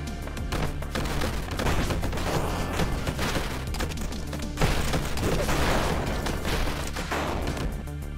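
Constant gunfire and explosions from the 2D action game Superfighters Deluxe, a dense, loud barrage of shots and booms overlapping without pause, with no speech.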